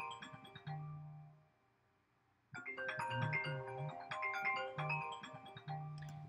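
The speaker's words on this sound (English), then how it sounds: "my phone has to be ringing, which is not on vibrate like it's supposed to be" A mobile phone ringtone goes off indoors, playing a bright electronic melody, pausing for about a second, then repeating its tune loudly and steadily with no talking over it.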